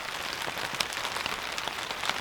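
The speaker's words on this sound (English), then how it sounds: "whenever it comes raining down hard like this or snowing" Hard rain and sleet drumming steadily on a truck, a dense, loud patter heard from close by with scattered sharper drops and no voices.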